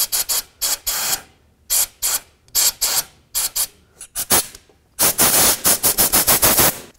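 Compressed air blasts out the bolt stud holes on a 1999-2003 Toyota Solara engine during timing belt and water pump work, in a rapid series of loud hissing bursts, then a longer sustained spray.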